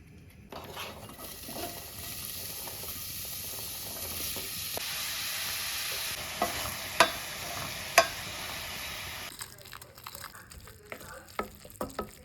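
Onions sizzle and fry in a pan over steady heat, with a continuous hiss beneath occasional sharp clinks and stirring scrapes of a utensil against the pan.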